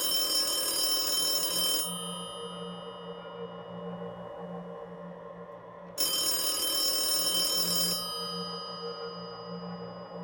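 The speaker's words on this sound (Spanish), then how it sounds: "escuché sonar aquel teléfono" An old-fashioned telephone bell rings twice, each long metallic trill lasting about two seconds, separated by a pause, fairly loud and alone.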